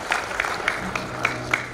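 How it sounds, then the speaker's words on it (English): Scattered applause from parents in a school hall during a Grade VI family jamboree, with distinct claps spaced at roughly regular intervals over a steady room hum rather than a full ovation. "So I would like to request you all to give yourself a big round of applause."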